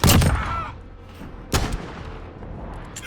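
Two booming gunshots ring out in a gunfight video game, one at the start and one about a second and a half later, each loud with a short reverberant tail and no talking.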